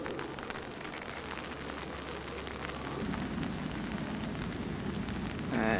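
Rain falls at the Deanery in Winchester, a steady soft hiss of drops on surfaces at moderate distance, faint overall with a slight rise in intensity toward the end.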